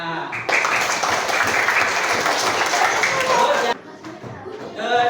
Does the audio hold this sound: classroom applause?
yes